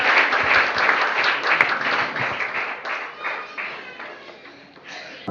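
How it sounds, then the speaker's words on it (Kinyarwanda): A church congregation claps, the applause loud and dense from the start, then thinning and trailing off toward the end, with scattered single claps. "Reka duhe Imana yo mu ijuru amashyi menshi."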